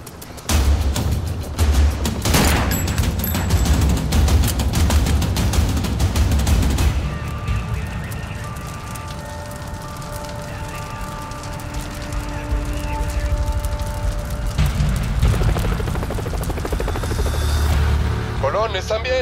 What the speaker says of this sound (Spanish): No estábamos tan cerca de la explosión.